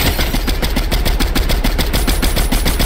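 Rapid automatic gunfire from the Fortnite video game crackles in dense, evenly spaced bursts, loud and continuous throughout with no talking over it.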